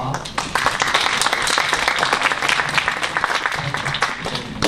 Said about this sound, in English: Please join me in giving Mary a round of applause